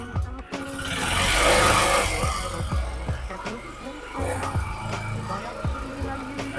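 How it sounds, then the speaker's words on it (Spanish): Bajaj Pulsar NS 200 motorcycle engine revved gently while cold during a coolant change, a rising then settling mechanical drone with irregular clicks and knocks, close by and moderately loud. "Vamos a acelerar un poquito la moto."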